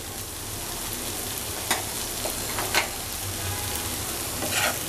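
Yardlong bean fry sizzles steadily in a pan, seasoned with coriander and cumin powder, with a few sharp scraping knocks from a spatula stirring it; close, even and without talk.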